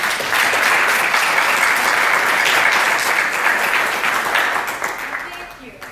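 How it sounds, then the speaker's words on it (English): A warm round of audience applause for three mayoral candidates at a college forum, steady dense clapping filling the room for several seconds before tapering off at the end. "Let's give them a warm round of applause."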